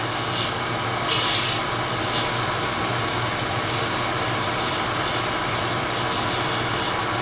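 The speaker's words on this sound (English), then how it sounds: "a skew chisel is probably the best tool for this, because all I want to do is flatten this edge" Skew chisel taking very light cuts to flatten a wood edge spinning on a lathe, a steady scraping rasp over the motor's hum with a few brief louder bursts, close and without speech.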